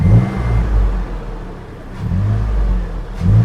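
A 2013 Toyota FJ Cruiser engine, fitted with a sprint booster on the gas pedal, runs close by and revs in several surging bursts, with a steady idle rumble between them.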